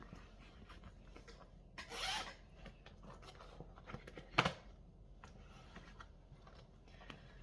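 Small fabric notions pouch for cross-stitch floss being opened, quiet rubbing and fiddling with a brief swish of a zipper or fastener and one sharper click, close and soft with no talk.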